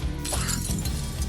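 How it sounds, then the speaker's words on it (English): Glass shatters in a sudden crash during a tense action scene, with a loud, dense burst of breaking fragments over a low rumbling backdrop. "even though he knew the glass would shatter"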